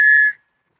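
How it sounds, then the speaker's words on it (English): A spare hiking whistle gives one short, loud, shrill blast with a train-like tone, cutting off sharply after about a third of a second and leaving silence. "sounds completely different to the other whistle. Sounds like a train."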